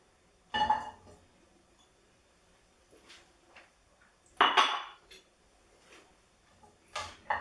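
Chorizo frying in olive oil is broken up in a pan with a utensil, a few separate clanks and scrapes spaced seconds apart over a quiet background, with no voices.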